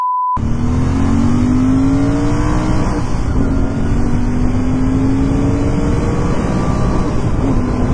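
A Royal Enfield Interceptor 650 motorcycle accelerates hard through first and second gear on a Hyderabad road, its engine note rising in long sweeps with a dip at each shift, loud and close under steady wind noise, with no voices.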